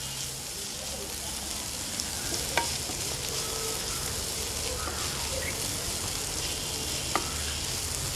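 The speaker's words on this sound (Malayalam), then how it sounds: "വീണ്ടും നന്നായിട്ട് ഇളക്കുക" Onions with a little chilli powder fry in a pan, a dense, even sizzle like light rain, with occasional faint clicks from a stirring spoon.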